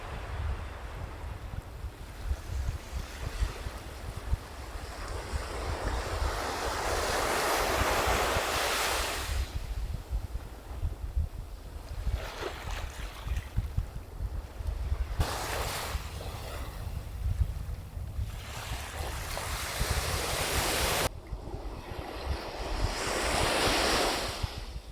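Ocean surf rolls onto a beach on Vancouver Island at sunset, steady wind buffeting the microphone throughout, with surges of breaking waves building and fading in loud, continuous washes; no voices.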